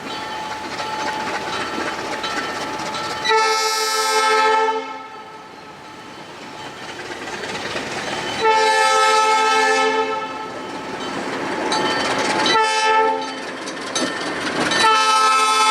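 Alco C415 diesel locomotive on the Burlington Junction Railway, loud horn blasts sounding repeatedly in long and short calls over the rumble of the running engine, close by, with no talking.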